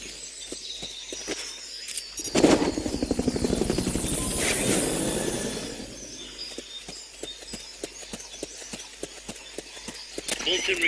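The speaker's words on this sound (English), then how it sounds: "Fulton recovery helicopter is complete." A Fulton recovery helicopter in Metal Gear Solid Peace Walker: a rising rotor whoosh swells loud in the middle, then recedes amid rhythmic clip-clop-like game effects and ticking.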